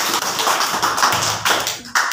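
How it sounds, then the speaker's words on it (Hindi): Children clapping hands together in a government school classroom during a group alphabet game, a dense burst of overlapping claps and taps close by with no talking. "चलो ताली बजा दो"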